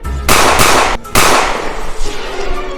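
Two loud, sharp gunshots in quick succession, each with a long echoing tail that rolls away.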